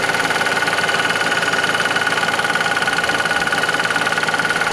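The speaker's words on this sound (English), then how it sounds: "You can hear the very loud metallic ticking." A Vauxhall Corsa engine idling with a loud, rapid metallic ticking that repeats evenly and continuously, close up and alone with no talking.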